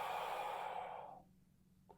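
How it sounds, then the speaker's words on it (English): A single long exhale through the nose or mouth during a thoracic rotation exercise, a soft airy breath that fades out over about a second, with no talking. "And I'm breathing out."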